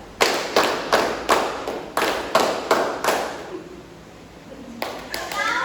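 Group hand clapping in a classroom exercise, a steady run of sharp claps in counted sets with a short pause before a few more, fairly close and loud, with children's voices faintly under it.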